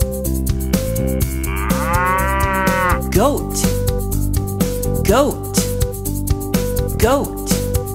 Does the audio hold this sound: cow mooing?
yes